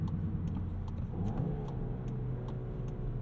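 Engine of a 2022 Volkswagen Jetta GLI during a rev-matched manual shift, a fairly quiet, steady mid-pitched drone with a slight swell partway through, heard from inside the car with no talking.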